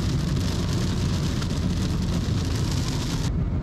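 Heavy rain pours steadily while a vehicle drives through a jungle area on the road from Posadas to Oberá, a dense, loud hiss over a deep road rumble that cuts off abruptly near the end.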